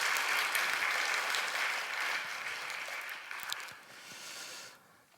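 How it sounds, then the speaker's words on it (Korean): Congregation applause in a church service welcoming visiting soldiers, a dense steady clapping from a large crowd that holds for about four seconds, then thins and fades out. "우리 환영의 박수 한번 보내주시면 감사하겠습니다"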